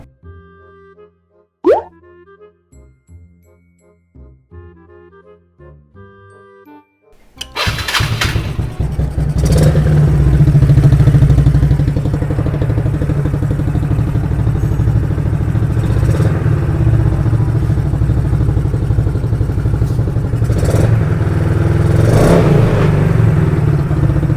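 A motorcycle engine, just reassembled and run on E20 fuel, fires up after a few sharp clicks and knocks in a quiet workshop, then runs loud and steady with a couple of revs, close by with no talk.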